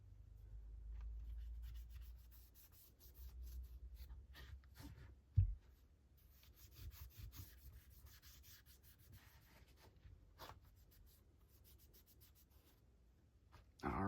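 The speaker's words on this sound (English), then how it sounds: "I'll take one more dry one, go around that too, just to dry all the excess cleaner off of it." A dry cleaning patch wipes a Ruger EC9S pistol, making faint, close rubbing and scrubbing strokes with occasional small taps and knocks, quiet and without talk.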